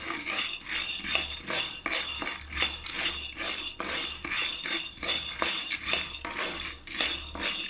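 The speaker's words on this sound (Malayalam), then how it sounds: "അതും കൂടി ഒന്ന് വറുക്കാനായിട്ട് ചീനച്ചട്ടി വെച്ച് കൊടുത്തിട്ട് അതൊന്ന് വറുത്തെടുക്കാണ്" Peanuts being dry-roasted in a wok, stirred with a metal spoon that scrapes and clinks against the pan in a steady, rhythmic run of strokes, close and fairly loud, with no talking.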